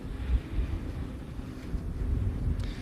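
Steady wind buffeting the microphone at the MotorLand race track, a low rumbling roar that swells and eases without pause, with no voices.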